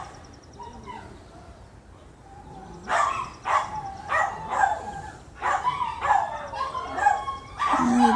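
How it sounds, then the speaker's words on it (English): Several dogs bark in repeated bursts at a residence, loud and fairly close, with short pauses between volleys and some yipping. "The dogs are barking."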